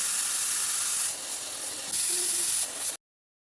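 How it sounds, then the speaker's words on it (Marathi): A pressure cooker whistling on the stove while mutton curry cooks, a loud continuous steam hiss that dips and swells for about three seconds before cutting off abruptly. "कुकरच्या दोन शिट्ट्या झाल्यानंतर मी कुकर छान असा थंड होऊ दिला"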